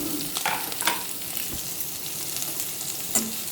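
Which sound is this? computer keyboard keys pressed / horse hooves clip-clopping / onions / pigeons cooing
onions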